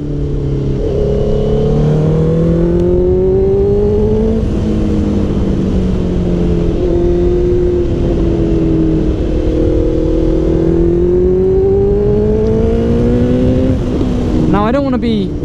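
Honda CBR650F motorcycle engine heard while riding, a loud steady drone rising and falling through the gears with shifting harmonic tones, running continuously and ending in a brief higher whine.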